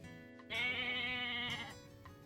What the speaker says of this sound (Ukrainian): Так, звісно, це маленьке ягня.